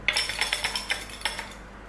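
Game pieces rattle and clink inside a covered xoc dia gambling bowl as it is shaken, giving a quick series of close, bright, rhythmic chinks lasting a couple of seconds.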